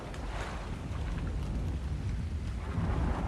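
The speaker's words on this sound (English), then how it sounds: "Why is it always raining over here?" Steady rain pours down in a stormy area of the ARK game, with low rumbling thunder rolling underneath throughout, a dense continuous wash with no voices.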